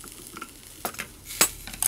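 Food being stir-fried in a pan after the heat is cut, with a steady low sizzle broken by a few sharp scraping and stirring clatters, close and fairly quiet.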